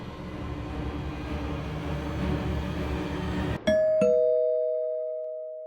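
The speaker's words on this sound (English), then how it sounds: "suddenly heard the bell ring" A doorbell gives a clear two-tone ding-dong after a stretch of steady low background noise, and its chime rings out and slowly fades in an otherwise quiet room.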